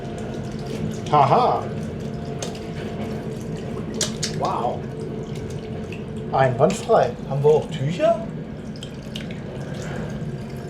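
Water runs from a washroom tap aboard an InterCity-1 train in first class, a steady hiss of flow under the hum of the moving train, while someone talks and laughs nearby.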